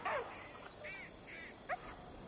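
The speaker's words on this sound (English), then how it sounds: "Good doggy." A dog whimpers in the zombie-shooter VR game Arizona Sunshine, with a few brief high whines spread across a quiet stretch and a short sharper yelp near the end.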